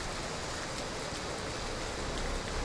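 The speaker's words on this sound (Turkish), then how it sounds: "bol bol yağmur yağan bir havada oynayacağız" Steady, dense rain hiss in the truck-driving game American Truck Simulator with a rain mod, a continuous even wash of drops with no talk.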